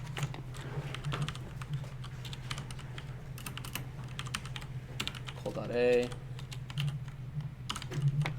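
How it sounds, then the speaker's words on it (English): Steady, rapid keystrokes on a computer keyboard click continuously over a low electrical hum, up close, with a brief spoken syllable partway through. "This keyboard is nice and simultaneously wild"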